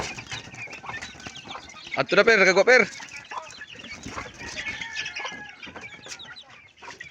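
Chickens cluck close by around a house, with a loud burst of squawking calls partway through, over a background of other voices and farmyard noise.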